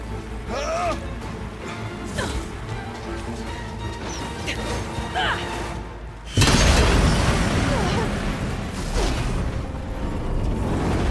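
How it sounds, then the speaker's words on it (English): Explosive ammo goes off in the video game Horizon Zero Dawn Remastered, a sudden loud, booming crash midway that floods into a rumbling roar over continuous game noise. "I need explosive ammo!"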